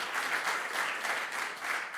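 A conference audience at a security forum pavilion gives a sustained round of applause, an even, fairly distant rush of clapping with slight swells.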